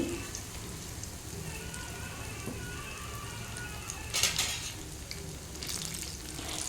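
Leftover idli batter dropped as bajji-style fritters into hot oil, giving a continuous soft crackling fry that runs throughout, with a brief louder spatter partway through.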